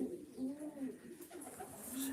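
A racing pigeon coos softly in a low, rolling, repeated pattern close by, in a quiet indoor setting while racing birds are basketed, with a faint voice in the background.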